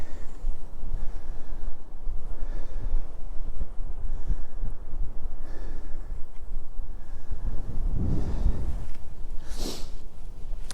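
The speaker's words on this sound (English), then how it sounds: "It's a bit windy, windier than anticipated." Wind gusts steadily across a microphone on a blustery day outdoors beside a large quarry, a constant loud low buffeting roar with a brief hiss and thump near the end.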